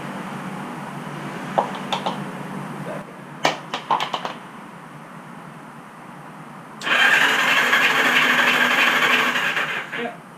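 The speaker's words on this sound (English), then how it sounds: "Turn your battery box on, key on, so it should spin faster with the plugs out" An old engine that has sat unused for 35 years cranks over with its spark plugs removed: a few sharp clicks, a pause, then a steady, whirring starter spin that runs loud for about three seconds before stopping.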